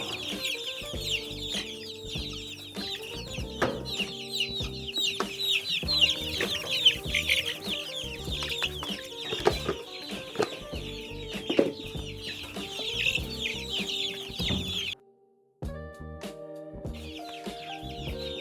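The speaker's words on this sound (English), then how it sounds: "And then we got our Polish chickens over here." Polish chickens cluck steadily and repeatedly close by in a coop during afternoon chores, with scattered handling clatter mixed in and a brief drop to near silence late on.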